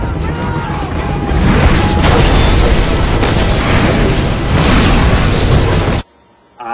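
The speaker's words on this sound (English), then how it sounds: "results in one of the worst green screen explosions ever" A loud, rumbling green-screen movie explosion with crackling debris and booming bursts rolls on for several seconds, then cuts off abruptly into near silence.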